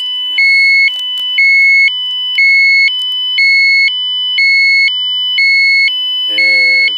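A Geiger-counter radiation meter alarm beeps loudly and close in a steady alternating two-tone pattern, about one cycle per second, as it reads contaminated water near zeolite balls. A brief voice is heard near the end.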